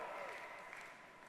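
An audience at a large keynote conference claps, a dense wash of applause that stays steady for over a second, with a voice briefly sounding underneath.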